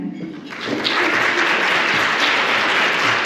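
An audience breaks into applause to welcome a speaker to the stage at a beauty and skincare business event, the clapping swelling quickly and holding as a dense, loud, steady wash.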